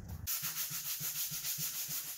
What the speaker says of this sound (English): just a bare sandpaper seems to be doing better than the sanding block